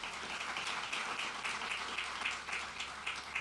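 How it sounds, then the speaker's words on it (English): Quiet applause from an audience at a NASA moon-base presentation, a soft, steady patter of many hands clapping, somewhat distant and faint. "So give him a round of applause"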